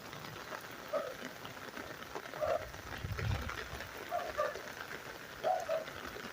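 Rain falls steadily in a cemetery at Spanish Town Cathedral as a soft, quiet patter with occasional louder drips and splashes scattered throughout, no voices over it.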